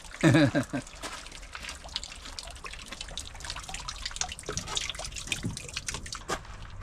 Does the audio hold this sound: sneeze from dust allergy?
no